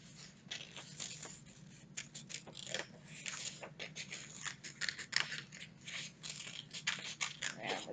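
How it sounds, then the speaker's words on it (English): Scissors snip around a paper cloud shape in a craft project, quiet close-up crunchy cuts coming in irregular bursts, with no talking. "Don't want to accidentally cut part of your cloud off,"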